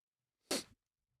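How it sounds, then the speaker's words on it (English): A single sharp sneeze, close and fairly loud, bursting out briefly and then stopping, with silence before and after. "I have to sneeze as well"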